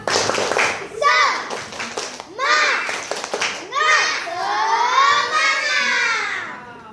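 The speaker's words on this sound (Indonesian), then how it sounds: "Tepuk semangat" Schoolchildren perform a rhythmic spirit clap, their claps landing in short patterned bursts between loud chanted voices, building to a longer group shout at the end.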